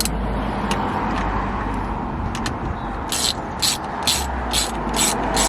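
A torque wrench ratchets in quick clicking bursts while tightening the steering wheel bolt in a BMW M340i interior, several sharp rhythmic runs over a low background hum.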